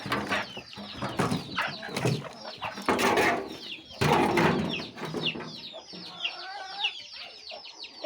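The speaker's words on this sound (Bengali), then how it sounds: "আমার এই মুরগিগুলোকে ছেড়ে দেই।" Several chickens cluck and squawk busily as they are let out of their coop, a dense overlapping chorus close by, with ducks and a dog also kept among the pets nearby.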